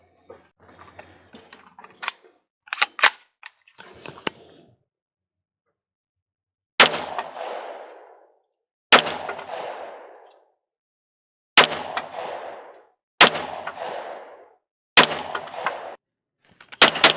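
Ruger LC Carbine chambered in .45 firing a string of loud single shots at a steady pace, each crack trailing off into a reverberant tail, after some earlier clicks and handling of the gun and magazine.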